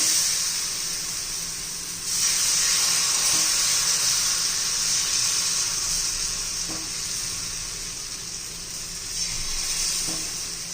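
Jowar dhirde batter hitting a hot pan, the sizzle swelling sharply into a loud, bright hiss that then holds steady with occasional faint taps, heard up close without talking.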